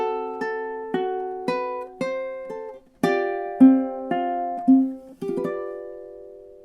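Measures 15 and 16 of a lullaby on ukulele, a steady run of plucked notes and soft strums in even rhythm, each ringing and decaying, close and alone.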